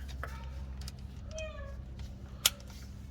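A cat gives a couple of short meows in a garage during a Chevy Silverado transfer case repair, faint against a low background hum, with a sharp metallic click near the end.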